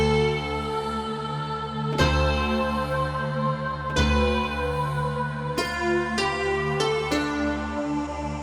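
A Korg M1 keyboard preset plays sustained harmonic synth chords with sharp attacks, a few struck near two-second intervals and then quicker hits toward the end.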